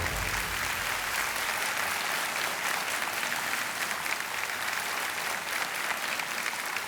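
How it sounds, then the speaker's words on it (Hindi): Studio audience applause on a television quiz game show as a contestant wins a cash prize, a sustained wash of clapping at moderate level throughout without speech. "तालियां बजती हैं इनके लिए।"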